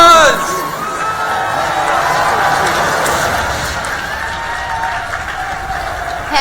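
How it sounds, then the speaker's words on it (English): Crowd at a Summoners Con 2014 League of Legends show match applauding and cheering the winning YouTuber team, a steady dense roar with whistles and voices throughout, loud and continuous from start to finish. "Let's get a big round of applause."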